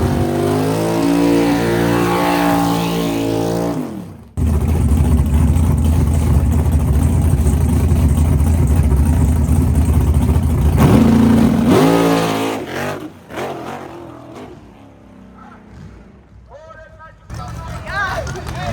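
A car accelerates on a sticky, prepped drag racing strip at a birthday bash meet. A loud engine revs and rises at first, then cuts out, followed by a roaring run with onlookers chattering around it.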